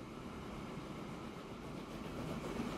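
A steam train in the video game Transport Fever 2 rumbles along in a steady, dense running noise with faint clacking, heard alone at low level.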